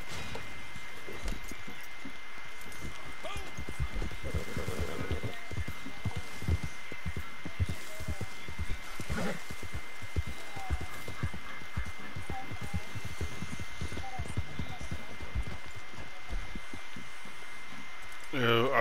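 Clip-clop of horse hooves in the video game Red Dead Redemption, a steady rhythmic trot of moderate loudness running throughout, with some speech and game noise in the background.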